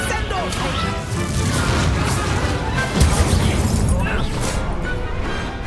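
Explosions from the Confringo blasting spell in Hogwarts Legacy, a sustained barrage of booming bursts and crackling blasts, loud and near, with a bigger hit midway through and chaotic battle noise throughout.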